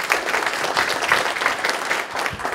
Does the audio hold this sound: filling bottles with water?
no